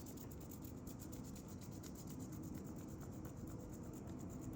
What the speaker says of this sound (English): you're focusing on how your hands feel as you're rubbing them knuckles, palms, nails